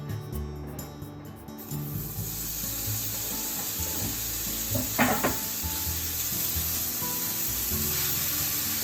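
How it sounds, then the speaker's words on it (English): Small pieces of sliced bacon sauté in a frying pan, giving a steady, broad sizzle throughout, with a brief clatter near the middle and no talking. "And saute this in the frying pan."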